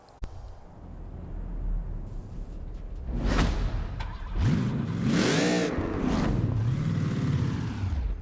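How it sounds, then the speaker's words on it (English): An Alfa Romeo 155 Q4 race car engine in the video game Forza Horizon 4 revs hard through rising and falling pitch sweeps, growing louder after a quiet start, with repeated surges of acceleration. "that is the sound of a race car."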